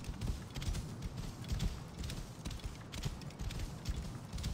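Horse hooves clip-clop in a steady galloping rhythm while riding in Assassin's Creed Origins, with faint creaks of tack, close and moderately loud, no speech.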